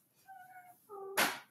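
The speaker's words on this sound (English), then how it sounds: "You probably heard that. That is my cat." A playful pet cat gives two short, clear meows, the second higher and more urgent, followed by a sudden scuffling burst, close by and otherwise quiet.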